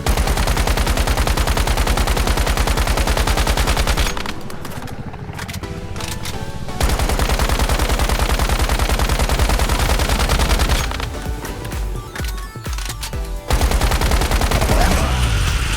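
Dense, continuous rapid gunfire from shooting at an elite enemy's weak spots in the video game Once Human, loud and close in long sustained bursts broken by two short pauses.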